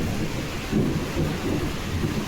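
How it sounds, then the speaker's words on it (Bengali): Heavy rain pours steadily during a storm, with rolling thunder rumbling low beneath the downpour and no voices present. "যেমন ঝড় হচ্ছে সেরকম বৃষ্টি হচ্ছে, আর মেঘও ডাকছে ওরকম।"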